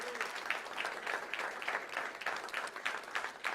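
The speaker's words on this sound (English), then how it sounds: "another round of applause for these great people." A university audience at a fall State of the University address claps in sustained, even applause, moderately distant and steady throughout.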